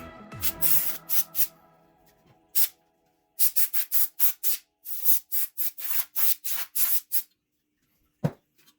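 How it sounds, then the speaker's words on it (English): Compressed air blown in repeated short bursts to clear dust out of a PS4 console during a deep clean, each hissing blast close and loud with brief pauses between, a few scrapes early on and a thump near the end. "Then you are going to take your compressed air and blow it out."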